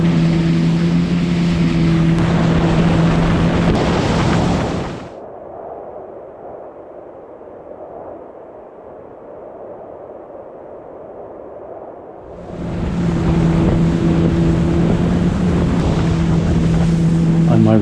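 Loud, close engine drone of a jet ski racing across Lake Michigan with wind buffeting, dropping to a quiet lull midway before the roar returns.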